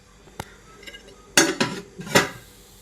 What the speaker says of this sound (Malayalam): നല്ലോണം ഇളക്കി കൊടുക്കാം ഇത് വെന്ത് വരട്ടെ അടച്ച് വെച്ച് കൊടുക്കാം